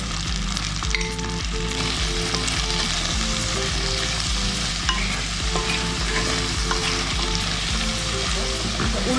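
Onions sauté with salt in a pan for a chicken curry, giving a steady, close sizzle with continuous stirring scrapes throughout and no talking.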